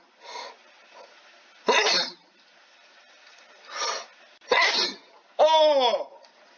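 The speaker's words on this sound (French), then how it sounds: "un but pendant que j'éternue" A man sneezes during a Football Manager 2021 session, a few short noisy bursts ending in a sharp voiced burst with rising harmonics, close and fairly loud.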